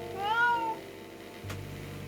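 One drawn-out meow from a calico cat on a rooftop in a visual novel, clear and near, followed by a quiet low background hum and a soft click, with no speech.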